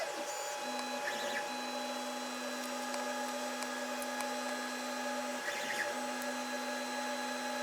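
A Creality Ender 5 Plus 3D printer running a print, its stepper motors giving a steady whine with a sustained tone that drops out and resumes, plus a constant hum, moderately quiet and close.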